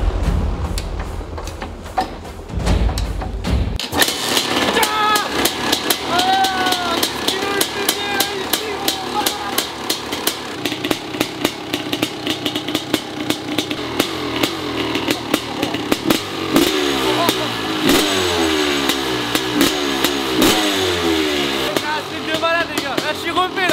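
Motorcycle engine fires up after a few seconds, then runs and revs loudly and continuously for the rest of the clip, close to the listener, with a voice talking briefly over it.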